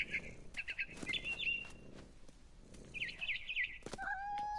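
Barn swallow in the video game What Remains of Edith Finch, giving bright warbling chirps in short bursts with soft flutters and game sounds between, fairly close.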